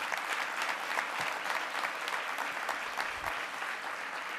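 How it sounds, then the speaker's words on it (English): Audience applause at a journalism awards event following opening remarks, a steady, full wash of clapping from a large crowd that holds evenly for the whole stretch with no talking over it. "So please give her a round of applause."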